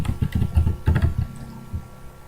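Rapid keystrokes on a computer keyboard, close and fairly loud, clustered in quick bursts for about a second and a half before trailing off into a few lighter taps.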